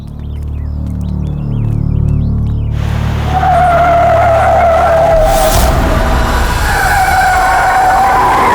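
A car skids hard with loud, sustained tire squeal and engine roar that runs for several seconds. A brief burst of impact noise comes partway through, set in a dramatic scene with no talking.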